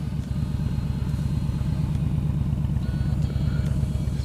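A 2015 Yamaha Stryker cruiser motorcycle idles with a steady, loud, low rumbling engine and exhaust burble that stays even and close throughout, with no talk over it.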